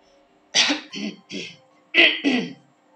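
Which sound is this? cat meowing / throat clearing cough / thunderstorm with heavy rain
throat clearing cough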